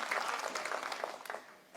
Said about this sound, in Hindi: एक बार जोरदार तालियां बजाकर बताइए कि आप मुझे सुन रहे हैं।